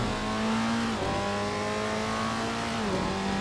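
A Datsun 240Z in Assetto Corsa revs hard and steadily, its engine note dropping briefly at two quick gear shifts before climbing again, loud and close with no talking.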